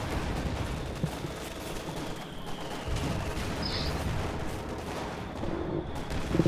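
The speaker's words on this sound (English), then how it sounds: "And there goes the mortar." Mortar and small-arms fire in the World War II strategy game Company of Heroes 2, a dense, steady battle bed of overlapping gunshots and thuds with no clear single blast standing out.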